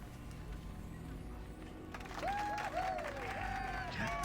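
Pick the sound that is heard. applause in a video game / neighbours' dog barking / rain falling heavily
applause in a video game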